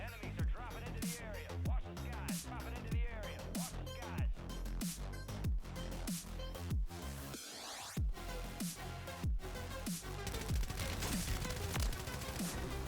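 Rapid gunfire from a weapon in the video game Warzone, repeated sharp bursts and single shots crackling loudly throughout, with a brief pause midway before firing resumes.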